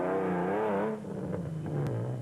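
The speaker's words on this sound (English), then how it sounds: "The Ford 4-litre engine sounded like it was asking to be manhandled some more." A Ford 4-litre rally car engine revs hard and close at a rally event, its rising and falling harmonics wavering under strain before settling into a steadier, lower drone as the car pulls away.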